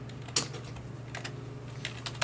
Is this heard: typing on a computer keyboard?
yes